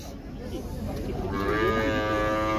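Cattle at a livestock fair in Buíque, Pernambuco, Brazil, lowing loudly and close by, one long harmonic moo rising out of a busy crowd and yard din in the second half.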